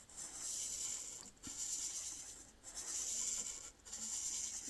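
A fine-nib pen scratches steadily across paper while drawing small fish details, a soft continuous close scratching broken by a few brief pauses between strokes.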